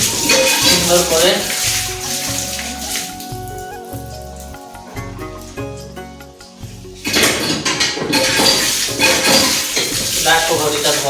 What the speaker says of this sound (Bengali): চলো বটিটা ধুয়ে নিই সুন্দর করে।